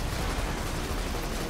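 Dense, continuous crackle of gunfire and explosion noise from the video game Borderlands 2 fills the brief moment, loud and busy with no clear gaps.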